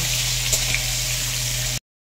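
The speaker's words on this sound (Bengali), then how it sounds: "দিয়ে ভালো করে লাল লাল করে ভেজে নেব" Potatoes and papaya frying in oil with turmeric in a karahi give a close, steady, even sizzle that runs unbroken for under two seconds, then cuts to silence; no one speaks.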